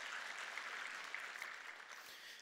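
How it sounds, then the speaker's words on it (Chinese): Applause fills the clip from start to end, a dense, even patter of many hands at a company introduction event, steady throughout with no voices over it. "你说应不应该给自己一个掌声？"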